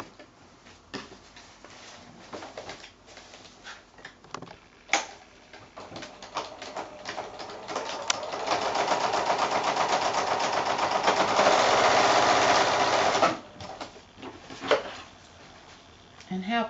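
A sewing machine stitches PVC-coated fabric for a small shopping bag. A steady, rapid mechanical whir runs for about five seconds in the middle, between scattered clicks and handling sounds, with a voice talking at times.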